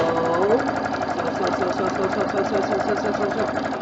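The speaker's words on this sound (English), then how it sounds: "I'm going to sew" A sewing machine stitches a fabric medical mask with the presser foot down, producing a close, continuous mechanical whir with a rapid stitching rhythm, running steadily under nothing else.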